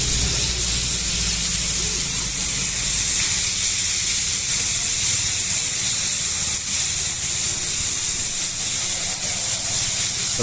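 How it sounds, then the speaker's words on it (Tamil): Knol-khol fries in oil on a hot pan with a steady, even hiss and sizzle that fills the whole stretch, with no talking over it. "கல்லில் நல்லா ஃப்ரை பண்ணிவிட்டு கொஞ்சம் ஆயில் ஊற்றி கொஞ்சம் உப்பு போட்டு நல்லா ஃப்ரை பண்ணிக்கலாம்"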